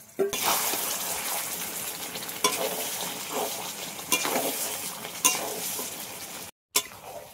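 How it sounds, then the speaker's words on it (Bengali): Mutton curry being stirred in a pan right after the lid comes off, a steady close scraping and sizzling with a few sharper clatters of the spoon and a brief dropout near the end. "এখন ঢাকনাটা তুলে নেড়ে দেব।"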